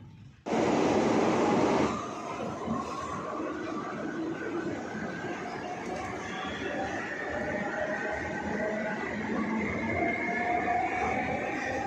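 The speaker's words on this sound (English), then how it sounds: "as I was traveling in this metro around 12:30" A Kolkata metro train runs through the tunnel with a near-empty carriage during a storm, opening with a loud rushing burst before settling into a steady rumble and rattle of wheels that continues unbroken.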